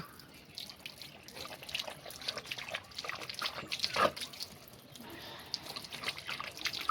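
A dog drinks from a running outdoor tap, with a steady faint splash and trickle of water and soft dripping.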